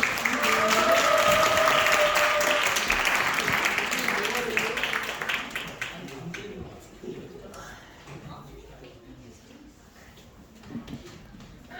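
Audience applause at a school festival, strong clapping with a cheer early on that fades out over several seconds, leaving scattered claps and quiet murmuring.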